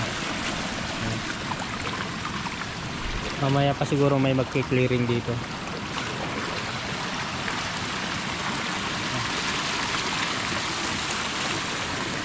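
Steady broadband rush of running water through a roadside canal and drain after a typhoon, continuous throughout with a person talking over it.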